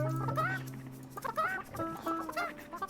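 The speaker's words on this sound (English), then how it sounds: "Chickens! And a cow." Chickens in the video game Burly Men at Sea give a few short, close clucks scattered over a few seconds, with no talking over them.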